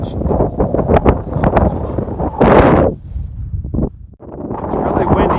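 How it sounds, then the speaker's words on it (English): Strong sustained wind of about 40 miles an hour near the summit of Mount Washington batters the microphone in loud, roaring gusts that rise and fall, briefly dropping out before surging again, with a person speaking under the buffeting. "it's really windy up here, probably a sustained 40 plus mile an hour"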